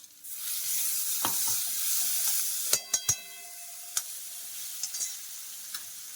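Ground spice paste for Mumbai-style vada pav hitting hot oil in a pan, a loud continuous sizzle and hiss with several sharp metallic clinks of a spoon or ladle stirring partway through; no talk.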